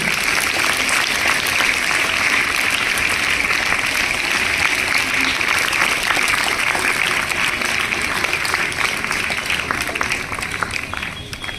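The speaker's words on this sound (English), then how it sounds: "Please give her a huge round of applause for her efforts." Steady applause from a school audience for a 7th-grade prize winner at a tree-planting event, a dense continuous wash of many hands clapping throughout, with faint crowd noise.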